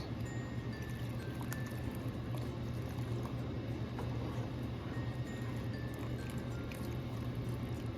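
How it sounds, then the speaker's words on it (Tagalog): Dissolved cornstarch slurry is poured slowly into simmering pancit Malabon sauce, giving a soft, continuous liquid trickle and faint bubbling, quiet and close. "Dahan-dahan lang natin siya ibubuhos guys para hindi magbuo-buo yung ating sauce."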